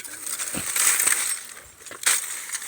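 Glass pieces clinking and crunching as they are handled among scrap metal outdoors, a few sharp bright clinks amid low rustling, fairly close and with no talk.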